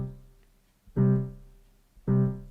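Left-hand beat on a keyboard: two evenly spaced low piano-like notes, each struck firmly and decaying slowly, played alone and close with quiet gaps between.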